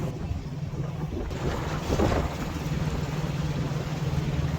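Strong wind blowing out of the south, a continuous rushing roar with buffeting against the microphone that swells briefly midway, close and fairly loud.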